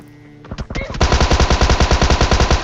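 Rapid automatic gunfire in the shooter game PUBG, a few scattered shots followed by a loud, sustained, evenly spaced burst of close-range fire.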